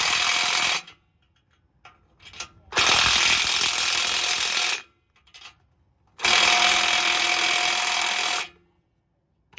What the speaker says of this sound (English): get your impact on there and tighten them up